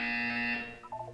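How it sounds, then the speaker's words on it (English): A buzzer in the video game Portal 2: a harsh, steady electronic tone held for about half a second, then cutting off and leaving faint warbling remnants. "When you hear the buzzer, look down at the floor."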